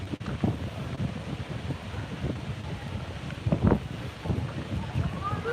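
Gusty wind buffets the microphone on a city street in Gdańsk, a steady low rumble with louder bursts throughout, with some faint background voices.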